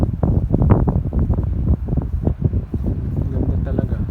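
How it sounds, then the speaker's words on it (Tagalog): Sea wind buffets the microphone in gusty, rumbling bursts along a seaside walk near a fish market, with people talking over it. "Mahangin pa."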